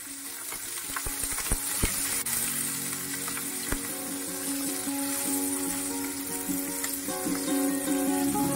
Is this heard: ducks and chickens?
no